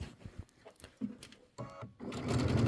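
A sewing machine stitches in the ditch along a quilt seam, running in short, uneven bursts with pauses between them before settling into a steadier, louder run at the end.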